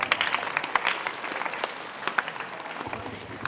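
An audience claps along with a patriotic Hindi song at a yoga gathering, a dense steady patter of hands filling the space with a faint voice now and then beneath it.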